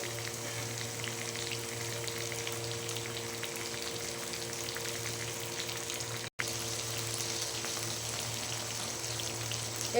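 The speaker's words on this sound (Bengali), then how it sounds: "যেগুলো আছে ওগুলো ভেজে নেব" Pabda fish fry in hot oil in a pan, giving a steady, dense sizzle that runs continuously with a brief break near the end; no voices.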